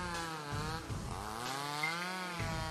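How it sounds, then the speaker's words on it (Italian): Chainsaw in the horror video game Mad Father Remake, a steady, loud revving drone with shifting harmonic pitch that runs continuously throughout, with no talking. "Aya, dobbiamo soltanto ora cercare di salvarci da un papà impazzito con una motosega"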